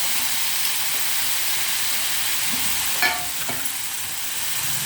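Tamarind water poured into a hot frying pan for an eggplant curry, giving a steady broadband sizzle and hiss with a brief splash or stir clatter partway through, no talking.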